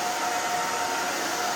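A handheld blow dryer runs steadily and close up for the whole stretch, drying a freshly cut pixie hairstyle; the broad airy whoosh stays constant and loud with no talking over it.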